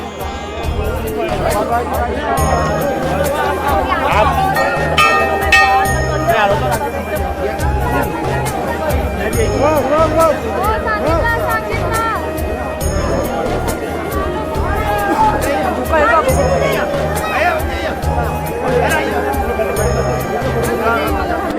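A dense crowd of pilgrims fills the grounds beside Kedarnath temple, producing a steady, close hubbub of overlapping voices, footsteps and movement that continues unbroken throughout.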